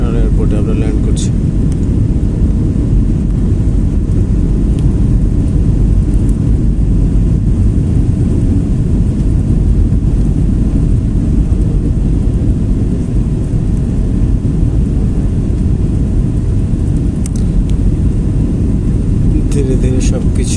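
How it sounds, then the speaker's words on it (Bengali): Cabin of a Biman Bangladesh airliner on approach to land at Tribhuvan International Airport, a loud, constant low engine and airflow rumble fills the space, with a few faint clicks and rattles. "ঠিক আর হয়তো 1 মিনিটের মধ্যেই ত্রিভুবন ইন্টারন্যাশনাল এয়ারপোর্টে আমরা ল্যান্ড করছি।"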